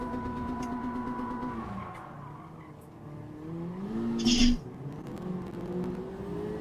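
Honda Civic FL5 racing at Fuji in a video game, engine note rising and falling as it brakes late, with a short burst of tyre skid midway, steady and loud throughout.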